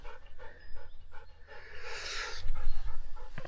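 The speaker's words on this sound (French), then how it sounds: "Mon chien là." A dog pants rapidly and heavily close by on a morning pigeon hunting outing, a rhythmic breathy huffing that grows louder with rustling outdoor movement.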